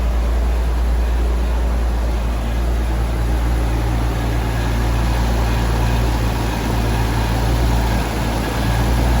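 A Jaguar XJS engine drones steadily at close range, a constant low hum with a faint irregular noise mixed into the running sound.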